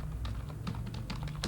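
A computer keyboard tapped in a quick irregular run of keystrokes while a terminal command is entered, close and fairly quiet, with no voice.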